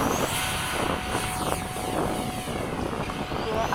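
An FMS 70mm F/A-18 RC jet makes a touch and go: a steady, fairly loud ducted-fan whoosh and roar with a slight pitch shift as it passes close by.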